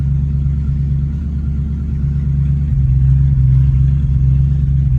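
Open exhaust on a 1958 Plymouth Belvedere 392 Hemi gives a deep, close, steady burbling rumble during a slow test drive, with a low pulsing throb and no voices.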